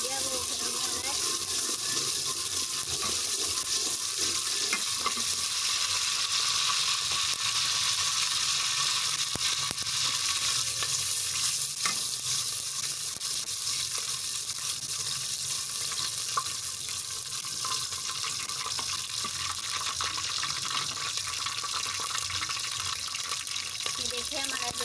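Ghee heating in a pan gives a dense, continuous hiss and sizzle that stays loud and even throughout, with a voice faintly underneath.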